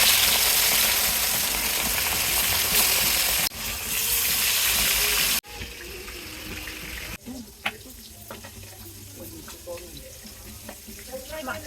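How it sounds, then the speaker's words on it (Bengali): Fish frying in a pan gives a loud, close, even sizzle that fades partway through, followed by quieter clatter and scattered kitchen clinks. "মাছ ভাজা হয়ে গেছে, এখন একটা একটা করে তুলে নিচ্ছি।"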